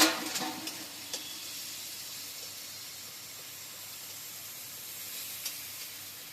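Small pond fish cooking with tomatoes, brinjal and potato in a pan, sizzling as the lid comes off: a few clatters at first, then a steady, soft hiss of frying and steam.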